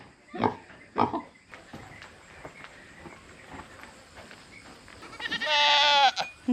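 Goats bleat on a farm homestead: two short cries near the start, then a long, loud, close bleat near the end, with quiet barnyard rustling between.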